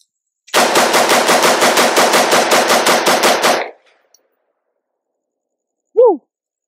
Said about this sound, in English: Let's see how fast I can shoot it.